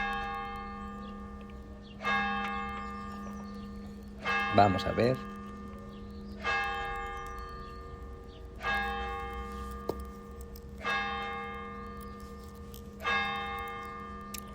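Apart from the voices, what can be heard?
church bells ringing eleven chimes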